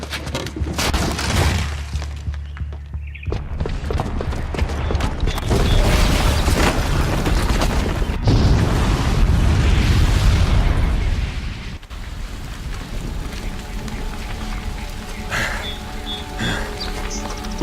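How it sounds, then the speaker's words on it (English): A booby-trapped bomb detonates in Horizon Zero Dawn's Meridian, producing a loud, sustained rumbling blast with crackling debris that rolls on for several seconds before settling into a lower, noisy aftermath. No one talks. "the booby trap on the bomb downstairs is gonna get set off"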